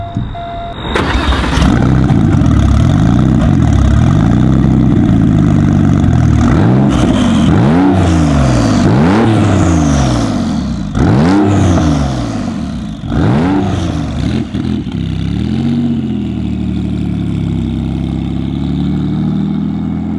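Porsche 911 GT2 Evo 993 engine revving loudly close by as the car pulls away, with repeated rising and falling blips through the gears that settle into a steady run.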